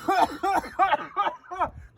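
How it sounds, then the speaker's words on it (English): A smoker's laughter breaking into a run of five rhythmic, raspy coughing bursts, close and fairly loud, each evenly spaced over about two seconds with no talk. "I'm a smoker, so every time I laugh, I cough."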